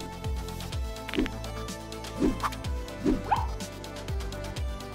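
A cartoon dog gives several short barks and yips, spaced about a second apart, over an animated action scene with a repeating musical backing.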